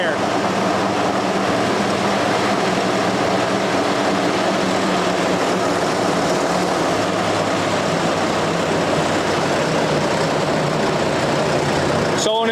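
A ventilation vehicle's large fan engine runs at 1200 RPM, giving a loud, constant, even drone with a throbbing low hum that holds steady throughout, while someone speaks over it.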